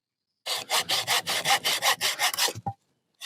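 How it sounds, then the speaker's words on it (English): A small waxed hand saw cuts through wood at a wild campsite, about a dozen quick close rasping strokes in a steady rhythm, ending with a couple of short knocks. "This is a good little saw, this. And it's going through this wood absolutely fine."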